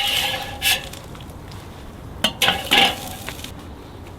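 Beaver tail meat with butter and black pepper turned on a smoking grill, a steady background sizzle broken by a few metallic clinks and scrapes of the flip, close by with no talking.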